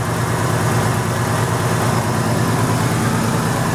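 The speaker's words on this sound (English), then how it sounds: "The exhaust has got a real nice tone to it." A truck engine with a Flowmaster exhaust idles smoothly at 101,000 miles, a steady low rumble with an even, unbroken drone, close and fairly loud with no talking.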